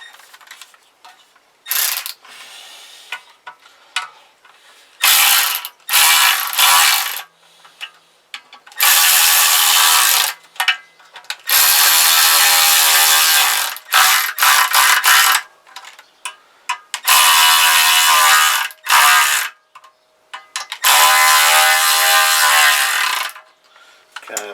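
A ratchet tightens bolts on a Kawasaki GPZ500 engine case, giving loud bursts of rapid clicking separated by short pauses as each bolt is nipped up, close and alone.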